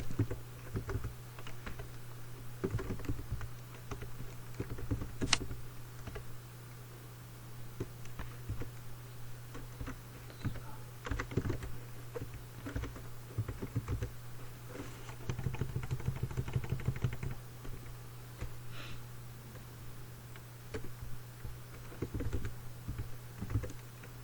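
Keys clatter on a computer keyboard during a Microsoft Word session, bursts of quick tapping broken by short pauses, fairly quiet and close, over a steady low hum.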